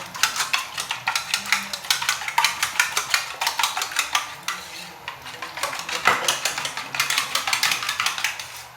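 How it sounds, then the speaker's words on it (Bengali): Two eggs with salt are whisked in a bowl, a fast, steady rhythm of close, bright clinks as the utensil beats against the bowl, with only a short pause midway and no talking. "আমি আপাতত 2টো ডিম নিয়েছি, একটু নুন নিয়ে ভালো করে ফেটিয়ে নেব।"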